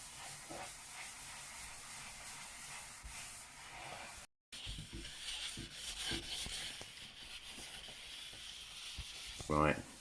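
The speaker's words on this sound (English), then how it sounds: "So try rubbing that in and see how well we can see how much we can get off." Bar Keepers Friend cleaner rubbed by hand over a tarnished kitchen hob, giving a steady close scrubbing hiss that runs almost unbroken, with one brief dropout partway through and a sharper scrape near the end.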